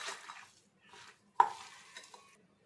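Chicken is mixed by hand in a marinade of black pepper, soy sauce and salt, making soft, wet squelches and stirring noises in short bursts with brief quiet gaps and one sharper slap, close up with no talk.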